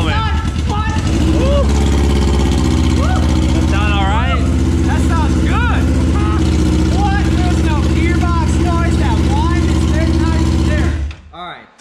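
A wrecked 1000cc street bike engine roars loudly and steadily for most of the stretch, revving with rising and falling pitch sweeps before cutting off abruptly near the end, with excited shouting over it.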